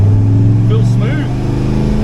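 A low-geared, torquey car engine hums steadily at close range as it pulls through a gear shift, with someone briefly talking over the drone.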